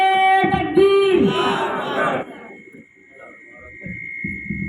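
A large crowd at an Islamic religious gathering roars back a loud unison chant in answer to a Naara-e-Takbeer call. The shout is loud and strained for about two seconds, then drops to scattered murmurs and voices.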